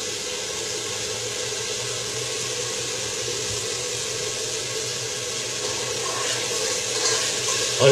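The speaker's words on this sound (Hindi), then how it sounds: "और इस पे सिरप डाल दिया।" Tamarind-and-sugar syrup poured into a hot pan over high heat, a dense, continuous hissing sizzle that holds steady and swells slightly near the end.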